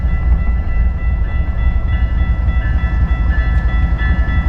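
A stopped train sits at a railroad crossing near Grande Prairie, giving off a steady loud low rumble with faint tonal whines, continuous and close, with no voices.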